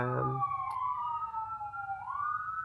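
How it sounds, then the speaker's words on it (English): A distant emergency vehicle siren outside wails faintly, its pitch sliding down and then rising again, over low background rumble. "sorry about the sirens"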